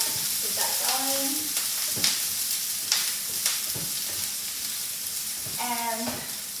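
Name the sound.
rice sausage frying in pan, stirred with spatula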